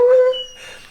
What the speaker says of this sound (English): So this is my dog, Nero, and